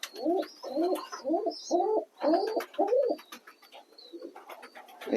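Pet pigeons coo while being given water, about six rounded coos in quick succession nearby, then softer cooing and light chirps trailing off.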